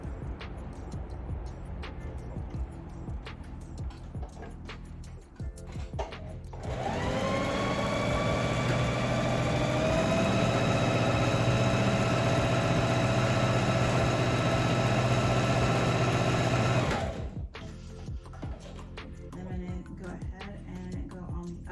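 A sewing machine stitches a mend over a hole in fabric, its motor whirring steadily for about ten seconds in the middle, loud and close, with quieter handling noise before and after.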